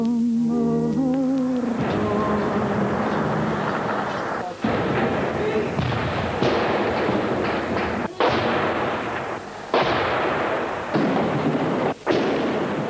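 Artillery bombardment at the Battle of Verdun in the First World War: dense, continuous rumbling barrage of heavy explosions with repeated sharp blasts every second or two, loud and sustained, following a brief fading sung tune at the start.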